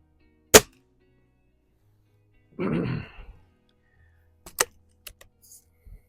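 Cometa 300 USC Premier air rifle firing at an outdoor range: two sharp, loud shots several seconds apart, with a short burst of rustling noise between them and a few faint clicks near the end.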